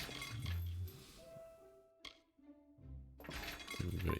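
Objects shattering and breaking apart with glassy clinks at a forge in the Kingdoms of Amalur: Re-Reckoning video game, a loud crash near the start and another near the end.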